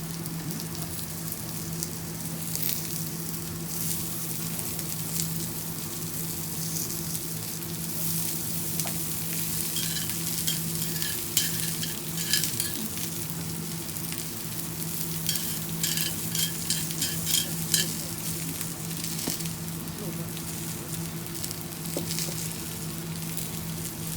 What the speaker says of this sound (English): She just oiled up the pan so it can heat up.